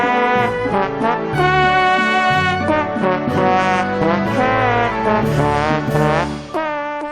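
A virtual trombone in the video game Trombone Champ plays a wobbly, slightly out-of-tune melody, its brassy sliding notes loud and continuous without any talk.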